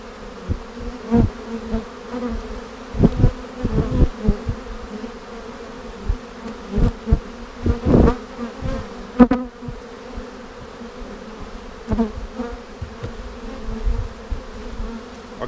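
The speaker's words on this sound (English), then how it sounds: "A lot of yellow pollen coming in" Honey bees buzz around an overwintered hive during spring inspection, a dense droning swarm with individual bees zipping close by in loud passes over the steady hum.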